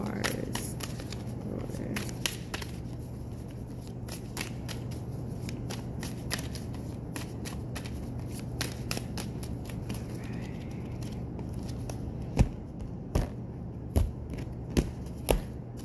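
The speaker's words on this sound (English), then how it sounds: "Let's just get 3 tarot cards." Tarot cards being shuffled by hand, heard as soft repeated riffling and crisp card flicks close by, with sharper snaps toward the end over a faint hum and quiet background.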